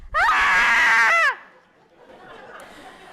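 A person's voice imitates a latke screaming as it is slapped into a pan of very hot olive oil, giving one loud, sustained, wavering shriek of about a second that cuts off abruptly, followed by quiet room murmur.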